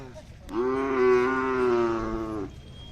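Khillar cattle at a crowded livestock fair in Sangola let out one sustained, loud, close moo lasting about two seconds, rising in strength and then holding steady before it ends.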